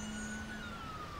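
Emergency vehicle sirens in the Emergency 4 game with the London mod, a wailing siren sweeping steadily at moderate distance under a continuous background hum, no talk.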